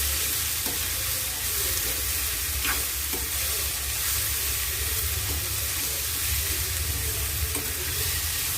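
Carrot and cabbage stir-fried in a pan over high flame, a continuous loud sizzle and hiss with intermittent scraping stirs and taps of the spatula, close up and steady throughout.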